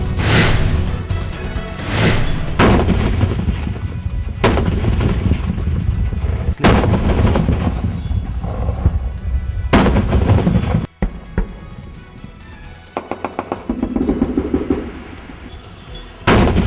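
Heavy bursts of gunfire and booming mortar rounds fired across the India–Pakistan border at night, loud repeated blasts with rapid rattling shots between them, no voices.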